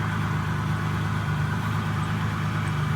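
A car with a high-flow catalytic converter exhaust idles steadily, a close, deep, even rumble that holds constant throughout, alone with no talk.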